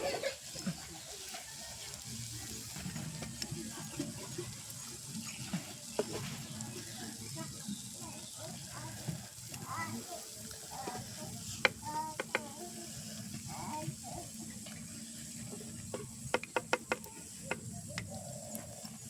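Paniyaram batter frying in a pan in a village kitchen: an even, low sizzle running throughout, with occasional sharp metallic clicks and scrapes and faint background voices.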